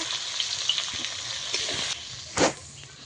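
Whole spices and bay leaves fry in hot oil for a vegetarian ghugni tempering, a close, steady sizzle that softens midway before a short, louder splash of sputtering near the end.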